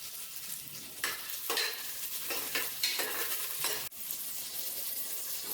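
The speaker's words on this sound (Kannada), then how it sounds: "ಆನಿಯನ್ನು ಸ್ವಲ್ಪ ಲೈಟ್ ಬ್ರೌನ್ ಕಲರ್ ಬರೋ ತನಕ ಫ್ರೈ ಮಾಡ್ಕೊಳ್ಳೋಣ" Onions frying in oil in a pan for chicken biryani, cooked until light brown: a steady close sizzle broken by several bursts of scraping as a spoon stirs them, with one brief clack near the end.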